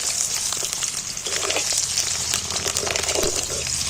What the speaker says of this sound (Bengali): এবার তেলের মধ্যে নাড়াচাড়া করে ভেজে নেবো লাল লাল করেই ভাজবো